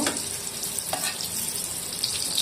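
Pieces of teasel gourd (kakrol) frying in a pan, a steady close sizzle with faint crackles and light stirring, no voices.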